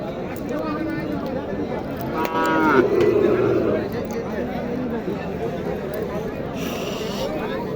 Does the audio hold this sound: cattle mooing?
yes